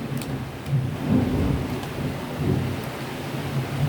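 A thunderstorm with a low rumble of thunder rolling through and swelling twice, over steady rain hiss, with faint scattered clicks nearby.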